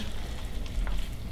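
Lion's Head meatballs simmering in a pan, giving a steady low bubbling sizzle with faint crackles throughout, moderately loud and close, with no voices.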